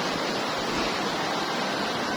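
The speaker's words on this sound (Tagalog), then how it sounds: "grabe laki ng tubig dito guys, aabot dito, baha-baha" Floodwater from heavy rain rushes past in a steady, loud, broadband roar, continuous and close with no break or voices throughout.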